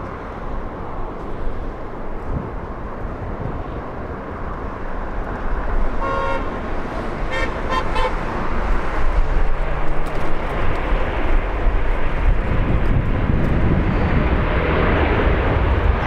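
An Asiana airliner takes off from LAX with a loud, rising engine roar that builds and stays strong. A car horn sounds several short toots partway through.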